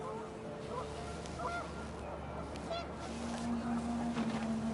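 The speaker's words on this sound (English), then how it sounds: "Wind picked up, and panicked geese appeared and quickly went." Panicked geese honk in What Remains of Edith Finch, scattered faint honks under wind and ambient game sound, with a sustained low tone rising near the end.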